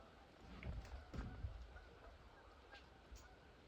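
Several Canada goose honks ring out at a distance over a steady outdoor hiss, with a faint voice briefly audible.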